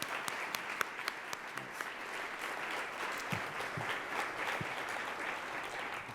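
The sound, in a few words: audience applause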